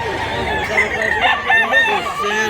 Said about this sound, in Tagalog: Daghang itag manok ron